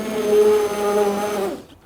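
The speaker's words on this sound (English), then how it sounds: "then we're just going to start the pan blender" A hand blender whirs steadily while blending hot vegetable soup in a pan under a tea towel, a loud continuous motor hum that runs for over a second before stopping abruptly.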